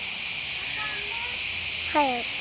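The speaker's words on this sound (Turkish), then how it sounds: "Cır cır cır cır cır. Neyin sesi o? Cırcır böceği." Crickets chirp in trees at a campsite, forming a continuous high, hissing chorus throughout, while a voice briefly sounds over it.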